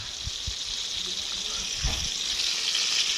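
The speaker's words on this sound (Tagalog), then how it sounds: "Habang nagluto ng prito." Food frying in oil, a steady crackling sizzle throughout, with a few low thumps underneath.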